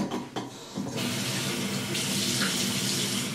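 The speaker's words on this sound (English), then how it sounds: "I'm gonna rinse my face a little bit to get it, you know, ready for tonight's regimen." Tap water runs steadily into a bathroom sink during a nighttime face rinse, a continuous broadband rush that swells slightly louder partway through, close and uninterrupted with no voices.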